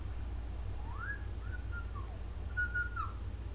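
A person whistles outdoors at night, a few faint rising and sliding notes in a short phrase, repeated once, over a low steady background rumble.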